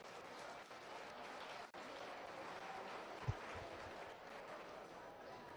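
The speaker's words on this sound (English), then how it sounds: "Let's give those a round of applause." Faint, distant applause from spectators at a beef cattle showmanship contest, an even patter of clapping in a large open space with a single soft thump partway through.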